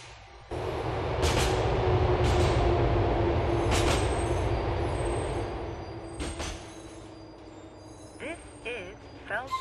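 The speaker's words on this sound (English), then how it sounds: "The train is approaching Feldspar Station." Subway train pulling into Feldspar Station in GTA IV: a loud, steady rumble of the car rolling, then easing off as it slows, with sharp metallic clanks, squeals and brake hisses near the end.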